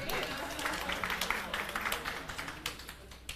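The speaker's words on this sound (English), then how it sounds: "Round of applause for that." Scattered clapping at a civil service public forum, a loose patter of individual claps rising and fading over a few seconds with a faint murmur of voices beneath.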